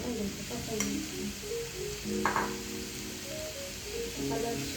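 Ingredients for Maddur vada frying and being stirred in a pan, a soft continuous sizzle with light scraping and stirring scrapes close by.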